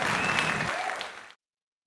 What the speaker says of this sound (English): Yes, golf clap